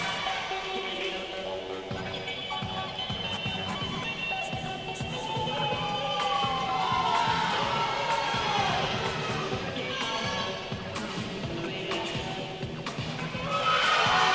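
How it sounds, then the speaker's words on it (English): Spectators cheering at the FINA World Junior Artistic Swimming Championships women's duet technical final, a sustained roar of crowd noise with shouts and rising excitement in an indoor pool arena, a commentator talking over it. "You could hear the crowd."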